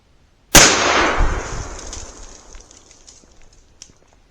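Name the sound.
44 Magnum gunshot from a Marlin 1894 rifle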